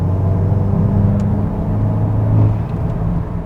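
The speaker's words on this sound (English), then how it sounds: "you hear more of the sucking and a little more turbo noise" A car on a dyno under acceleration gives a loud, steady low rumble with a whirring intake and turbo tone layered over it, sustained throughout with a slight swell toward the end.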